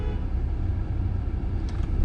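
A car pulls away from a green light on a Dun Laoghaire driving test route, steady close engine and road rumble with faint traffic around, no talking.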